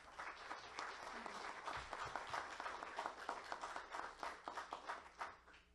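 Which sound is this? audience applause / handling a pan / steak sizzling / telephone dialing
audience applause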